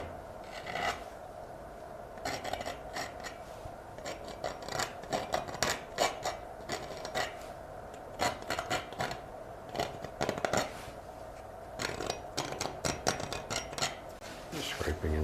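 Palette knife scraping and dragging through thick oil paint on a canvas, a series of short, irregular rasping strokes heard up close against a steady background hum.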